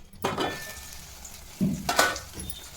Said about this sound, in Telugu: ఆనియన్ యాడ్ చేసుకుని తిప్పుకోండి